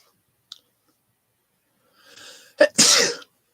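A single person sneezes once near the end, a sharp close burst preceded by an inhaling breath and a small click in otherwise quiet surroundings.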